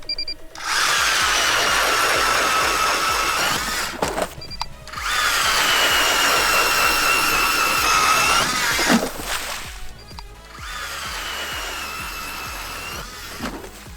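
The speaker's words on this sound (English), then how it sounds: "If you don't have an electric auger like this or a gas auger, this process is going to be a little bit more of a pain in the butt" Electric auger boring holes through lake ice, three loud grinding drill bursts separated by short pauses, with scraping and crunching as the bit cuts, no voices.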